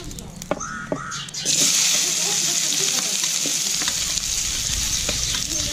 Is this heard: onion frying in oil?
yes